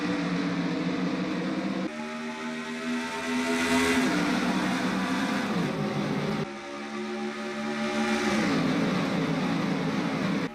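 A pack of 39 NASCAR stock cars roars down the backstretch at Las Vegas during a playoff race, a loud continuous engine drone with pitch sweeps as cars pass in two waves.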